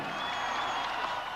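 Crowd roaring and applauding at Jeb Bush's inauguration for his second term as Florida governor, a steady wash of clapping and cheering heard briefly at a distance.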